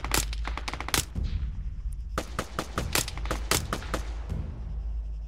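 Bursts of automatic gunfire in Arma 3 battle royale, sharp loud shots in quick clusters separated by short pauses, close and punchy with a steady low rumble underneath.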